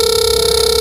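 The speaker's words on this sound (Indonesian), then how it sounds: "Kalau ada telepon masuk dia bunyi" A short, steady electronic smartwatch incoming-call ringtone, loud and close, lasting under a second.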